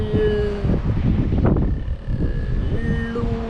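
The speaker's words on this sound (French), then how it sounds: "Oh, il y a du vent, ça m'énerve." Gusts of wind buffet the microphone close up in Angra do Heroísmo in the Azores, causing heavy low rumbling that swells and dips, with faint tonal sounds in the background.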